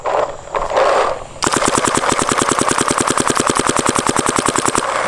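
A Planet Eclipse Geo R5 paintball marker firing a rapid string of shots, with a steady, evenly spaced mechanical cracking that is close and loud, following a brief rustling lead-in.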